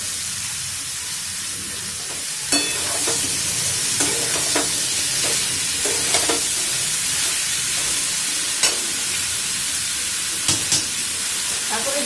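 Kohlrabi and prawns fry with spices in a pan, giving a steady close hiss and sizzle broken by scattered scraping knocks of a spoon stirring.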